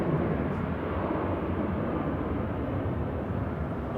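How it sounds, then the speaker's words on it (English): Ryanair's 14-year-old Boeing 737-800 departs Manchester Airport for Barcelona, giving off a steady, broad jet roar heard from a distance that holds level throughout with no talk over it. "Ryanair 7542 off to Barcelona there. That's the EFX departing a 14-year-old Boeing"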